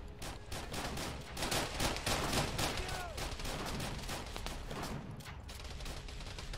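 Sustained automatic gunfire in Arma 3 pounds a target's vest, a dense crackling barrage of rapid shots that stays loud and continuous, with a voice speaking faintly beneath it.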